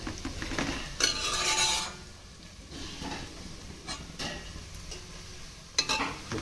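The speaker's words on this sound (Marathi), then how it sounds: "आता जो कढीपत्ता आपण धुवून घेतलेला आहे तो आपण याच्यात घालणार आहोत." Washed curry leaves drop into hot oil over a lowered flame, giving a loud crackling sizzle burst that fades to a quieter hiss, with a few sharp utensil clinks against the pan.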